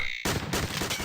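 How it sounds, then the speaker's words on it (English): Gunfire in the video game Quadrilateral Cowboy: after a brief tonal hum, a loud, sustained burst of rapid shots fills the moment, dense and close, with no talking. "Oh crap. That's a gun."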